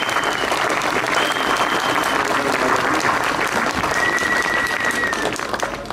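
A large crowd claps steadily and loudly at an outdoor farmers' rally in Marktheidenfeld, the applause continuous and dense throughout with faint voices mixed in.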